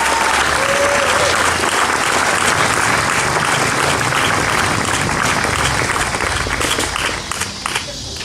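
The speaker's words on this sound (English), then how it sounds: "Round of applause." A crowd applauds a municipal band marking 90 years of music making, loud sustained clapping that fills the space for several seconds, then thins and softens toward the end.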